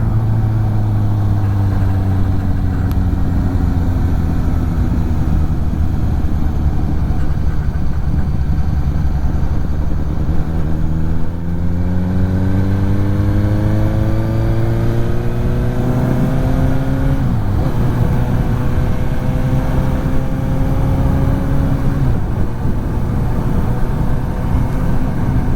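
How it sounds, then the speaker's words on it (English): A Suzuki GSX-S750 motorcycle at speed on fell roads, its engine loud and continuous with rising and falling pitch as it accelerates through gears, rushing wind underneath throughout. "travelling at these speeds on this bike"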